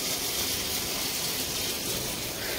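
An overflowing water tank gives off a steady, dense rush of spilling water that stays continuous and even throughout, moderately loud with no voices.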